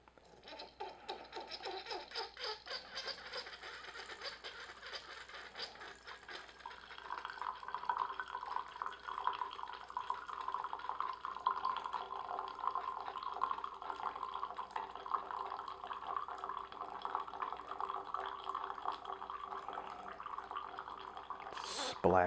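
Coffee from an Aicok portable coffee maker drips and splashes in a quiet, continuous liquid patter, soft at first and then fuller and steadier, ending with a brief louder knock.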